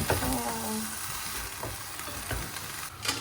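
Sugar being stirred into food sizzling in a pan with sesame oil, a steady frying hiss under occasional scraping and clinking of the utensil against the pan.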